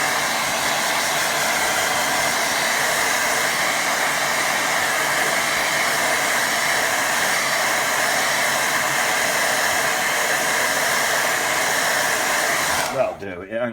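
A hair dryer blows steadily on a watercolour painting, a loud, continuous broadband whoosh with no talk that cuts off abruptly near the end.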